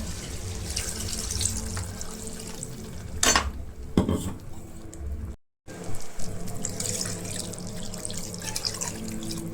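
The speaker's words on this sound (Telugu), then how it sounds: "కారం వేసుకొని తిప్పుకొని దానిలో వాటర్ పోసుకోవడం సరిపడా" Water is poured into a pan of Andhra chicken curry seasoned with chili powder, a close splashing gush with clinks of utensils against the pan, two sharp clatters midway, then steady sloshing and dripping, with no talking.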